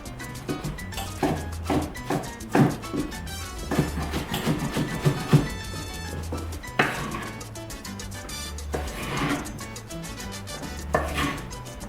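A knife dicing a tomato into cubes on a cutting board, a run of quick, crisp chopping taps in uneven bursts, close and clear, with scattered board and utensil clatter and no speech.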